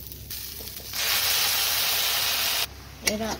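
A spice paste with tomato drops into oil in a pan for a potol kosa dish and bursts into a loud, close sizzle for nearly two seconds, then cuts off abruptly, followed by a brief voice.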